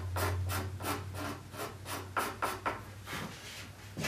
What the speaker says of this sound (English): So I just concentrate right on top of the maple. Hit it in a couple of different directions.